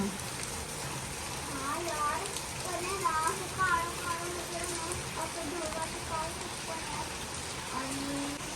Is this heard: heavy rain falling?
yes